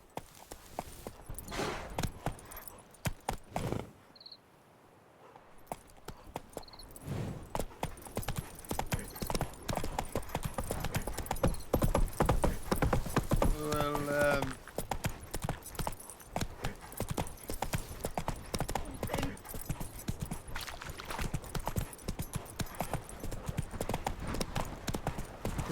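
Hooves of Roach, the horse in The Witcher 3, clip-clop in a steady galloping rhythm through most of the stretch, loud and close, with a brief lull near the start and occasional game voices in the background.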